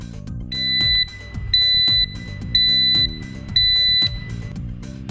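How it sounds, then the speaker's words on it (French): An RB3 receiver answers a press of its check button with four evenly spaced, loud electronic beeps, each about half a second long, over a soft steady tonal background. "Il suffit pour cela d'appuyer sur le bouton check du récepteur et l'on entend alors 4 bips."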